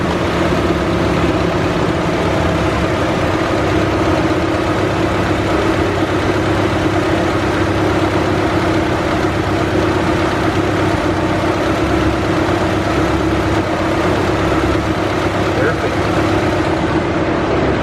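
A Honda Civic engine idling during a Hondata tune, a loud steady low rumble that holds even and constant from start to finish, close by.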